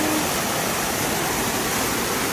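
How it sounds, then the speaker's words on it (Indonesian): A waterfall in Riau province roars as a dense, steady wash of rushing water, loud and unbroken. "Ada air terjun di sini."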